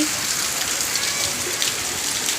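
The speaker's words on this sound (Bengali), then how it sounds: "এইবার দেখো কত বৃষ্টি, কত বৃষ্টি, কত বৃষ্টি, কত বৃষ্টি।" Heavy rain pours steadily at night during a power cut, a dense, even hiss of drops on surfaces that fills the whole stretch without letting up.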